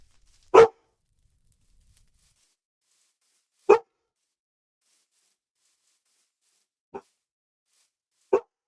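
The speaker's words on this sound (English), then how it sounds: "It's just a dog outside barking." A dog barks outdoors, four sharp single barks spread apart by long stretches of silence, the last two a little quieter than the first pair.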